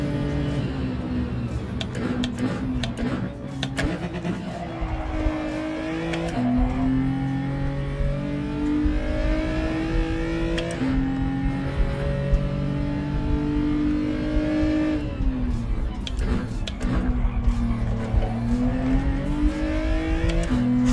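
Race car engine revving in a racing video game, loud and continuous, pitch climbing and dropping through repeated gear changes as the car accelerates and lifts, with no talk over it.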